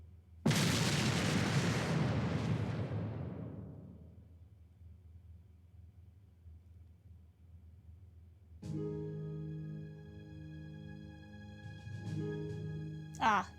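A railway gun cannon fires in the video game Trails of Cold Steel, one huge booming blast that rolls off into a long rumbling decay before tonal game music comes in.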